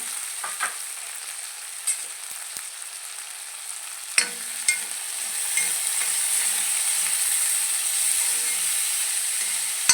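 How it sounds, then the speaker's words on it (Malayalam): Dried red chillies, including Kashmiri chillies, frying in hot oil in a Malappuram-style chicken dish: a steady high sizzle that swells and holds, with a few sharp clicks of a utensil against the pan, close and without talk. "പിന്നെ ആവശ്യത്തിനുള്ള മുളകും ഒന്നിച്ചിട്ടിട്ട് അത് മുപ്പിച്ചെടുക്കാം"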